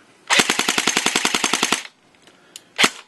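A Classic Army Tango Down ECR-5 blowback airsoft rifle fires a rapid full-auto burst of about fifteen sharp, evenly spaced clacking shots. A short pause follows, then one or two more close, loud cracks.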